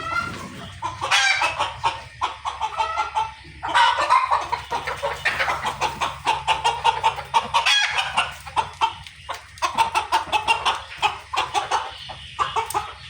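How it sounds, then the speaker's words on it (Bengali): Laying hens of Fayoumi, Sonali and local deshi breeds cluck and cackle continuously nearby, a busy overlapping chatter of short calls from several birds with no pauses across the whole stretch. "এগুলো দর্শক কিন্তু আমার ডিম পাড়া মুরগি"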